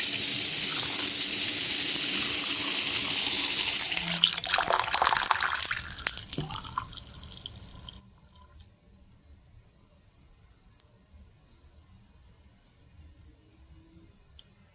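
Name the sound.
kitchen faucet water running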